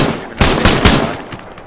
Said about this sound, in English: Sorry, I missed that. I was shooting.